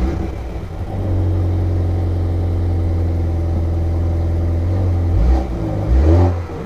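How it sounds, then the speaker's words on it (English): A BMW M135i engine fires up and settles into a steady, loud idle with a deep low rumble, then revs rise sharply twice near the end. "Should we start the engine up?"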